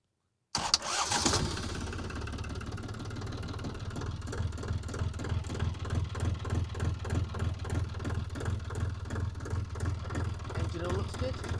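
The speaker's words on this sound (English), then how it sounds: "This boat has a manual engine start." A boat's engine is started manually, with a short cranking burst that catches and settles into a steady, fairly loud idle with an even pulsing rhythm. It runs alone throughout.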